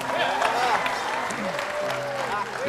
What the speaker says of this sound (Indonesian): Tepuk tangan dong ya.